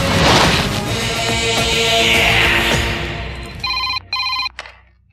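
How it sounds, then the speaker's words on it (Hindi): An electronic telephone rings in two close bursts near the end, after a loud, noisy action scene in a Hindi-dubbed South Indian film, and then falls silent. "सेठ जी का फोन है"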